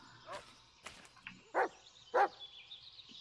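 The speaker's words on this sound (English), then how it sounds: "What are you barking at?" Bullet, a dog in the woods in the Blair Witch video game, gives two loud, close barks after some softer whimpering sounds.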